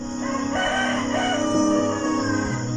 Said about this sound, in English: And immediately a rooster crowed.